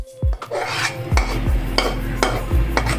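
A spoon scrapes and knocks against a pan as egg halwa is dished out, giving a series of close, loud metallic clanks and rasping scrapes in an irregular rhythm.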